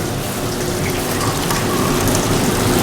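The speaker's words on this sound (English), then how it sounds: "fill it to the brink, Joy." Water from the Fountain of Youth in Saint Augustine, Florida splashes and hisses steadily as it pours into a cup, a close, continuous trickle with no talking.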